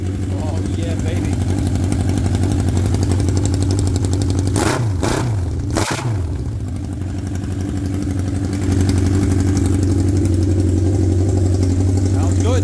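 A 1979 Honda CB750 F Super Sport idles with its rusted exhaust pipes cut off, giving a loud, raw, steady rumble. Partway through there is a brief blip of revving, and then the idle settles back into its even beat.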